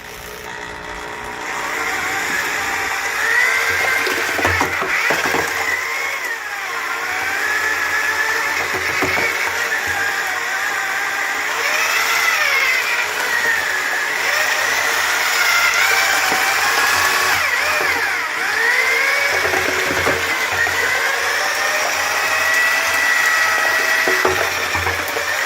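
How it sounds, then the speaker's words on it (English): A handheld power drill with a paddle mixer churns thick aircrete mix for a DIY panel build, a steady loud whirring drone that holds for the whole stretch, with slight shifts in pitch as the load changes and no one speaking. "it's getting thick. I'm going to have to put 2 hands on the drill."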